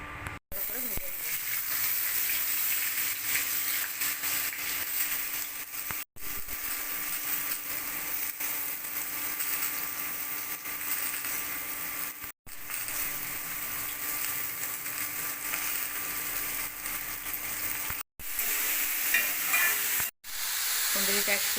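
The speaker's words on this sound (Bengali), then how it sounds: "এখানে আলু, কুঁদরি আর পেঁয়াজ ভালো করে ভেজে নিয়েছি" Potatoes, ivy gourd and onion fry in oil in a home kitchen pan, giving a steady, close, loud sizzle throughout with occasional stirring and brief cuts in the sound.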